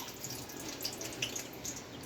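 A tumbler of milk poured into a pan holding melted ghee in a home kitchen, a soft liquid splashing and trickling with small drip-like plinks, faint and close.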